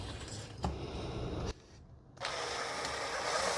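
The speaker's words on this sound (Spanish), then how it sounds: "Hicimos la primera perforación." A 3 mm bit drills through material for a homemade TV antenna, giving a steady broadband whir with a brief drop in the middle before running on loud and continuous, with no voices.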